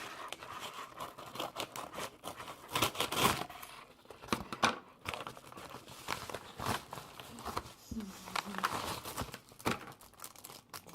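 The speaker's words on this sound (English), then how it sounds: "Glad to have scissors." Packaging being opened with scissors, crinkly plastic and cardboard rustling in irregular bursts with sharp snips and tearing, close and moderately loud, no talking.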